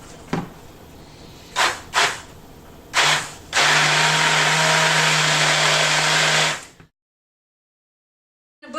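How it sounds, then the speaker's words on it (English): An immersion blender working through hot tomato soup made with roasted vegetables gives a few short whirring bursts, then one steady, close motor whine for about three seconds before it cuts off into silence. "Get your immersion blender ready."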